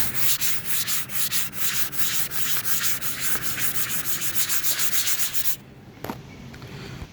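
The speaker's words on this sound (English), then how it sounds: "But just to knock any last little pieces of loose debris off of it, we sand it." Rapid rhythmic scraping of a sanding sponge rubbing back and forth on an RV roof, close and steady, stopping near the end.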